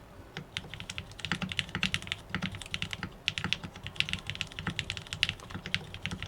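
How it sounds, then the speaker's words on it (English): Steady typing on a Frog Mini mechanical keyboard, rapid quiet keystrokes in an uneven rhythm, close and soft, with no talk. "I was seriously not expecting this keyboard to be this quiet."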